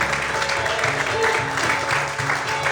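A church congregation claps during a sermon, a continuous wash of applause mixed with sustained tones, likely music, and some voices underneath.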